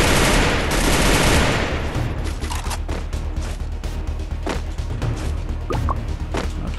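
Gunfire in the battle royale video game Free Fire: a dense, loud burst of automatic fire for the first couple of seconds, then scattered sharp shots and impacts continuing at a lower level to the end.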